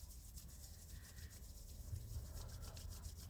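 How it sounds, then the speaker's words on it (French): A pair of hands rubbing against each other during a Parkinson's exercise session gives a soft, close, continuous dry swishing friction that stays faint throughout. "On frotte les mains l'une contre l'autre."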